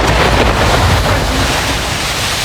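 Stormy waves churn on a lake under strong wind, a loud continuous roar of surf and gusts buffeting the microphone, rough and unbroken with no voices.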